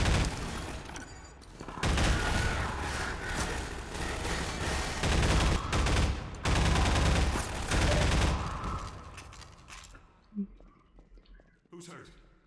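Gunfire in the Half-Life video game during a firefight with alien attackers: dense bursts of shots and booms rattle on for several seconds, then cut out into quieter moments with a few isolated cracks, with voices mixed in.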